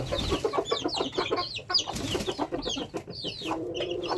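Hens clucking with a black rooster among the flock in a backyard poultry coop, continuous busy clucking and short calls close by, birds layering over one another with no talk.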